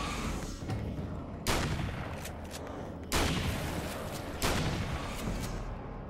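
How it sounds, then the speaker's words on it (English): Shotgun blasts in the video game Alan Wake: American Nightmare, three loud, close booms spaced about 1.5 seconds apart over a dense, rumbling game background with no talking. "Got enough shotgun for everybody."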